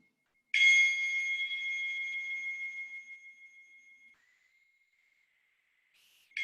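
A single bright meditation chime used to mark the breath count, struck once and ringing clearly alone in a quiet room, slowly decaying over several seconds before a second strike begins.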